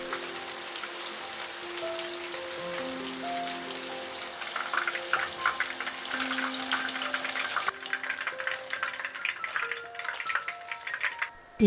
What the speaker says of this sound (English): Let them fry about 3 to 4 minutes on each side.